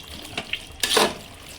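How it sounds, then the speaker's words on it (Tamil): Water pours into the cooking vessel used to marinate chicken for biryani, with a couple of small drips followed by a short, close splashing pour that fades quickly, and no voices. "இப்போ அந்த சிக்கனை ஊற வச்ச அதே பாத்திரத்தில் தண்ணியை ஊற்றி"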